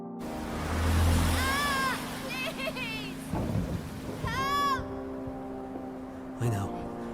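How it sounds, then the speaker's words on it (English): A thunderstorm in a video game trailer, with heavy rain and low rolling thunder rumbling under layered effects and musical tones, loud and dense throughout, with voices talking in places. "A major storm's heading for the coast."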